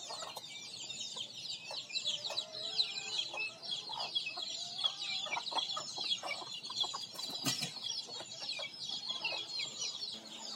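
Tiger chickens cluck and squabble in a fight, a dense, busy chorus of clucks and squawks close by, steady throughout with no talk.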